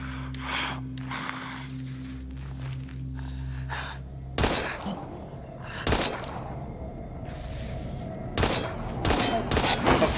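Gunfire and combat in the survival-horror video game Daymare: 1998, with a few heavy shots and thumps punctuating rumbling ambience alongside breathy gasps and grunts, fairly loud and close.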